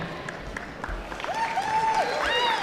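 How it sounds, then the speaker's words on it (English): A crowd at a high school basketball game applauds the game officials, a steady wash of clapping with high whistle-like tones rising through it over a few seconds. "Let's just take a moment to give a round of applause for tonight's MSHSL sanctioned officials."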